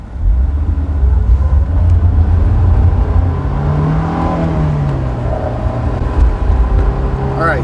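A Honda S2000 sports car carves through a series of turns, its engine note droning steadily up close, then swelling and dipping in pitch as it accelerates out of the bends, with a constant rumble of road noise underneath.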